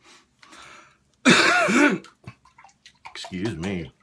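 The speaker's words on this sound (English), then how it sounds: "Woke up coughing my head off this morning." A man coughing and clearing his throat, with a loud harsh burst followed by a few shorter throaty sounds and quiet breaths, heard close up.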